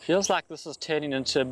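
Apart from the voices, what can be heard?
No everyday noises stand out.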